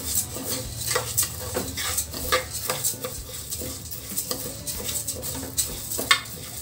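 Moong dal being dry-fried in a pan for payasam, with a spoon steadily stirring and scraping against the metal over a soft, continuous sizzle and frequent light clinks, close and fairly loud with no voices.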